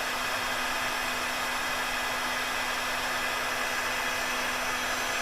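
A heat gun blows steadily while it melts a heat shrink self-solder butt splice connector onto wires, a loud, even airy roar with a faint motor hum that never changes.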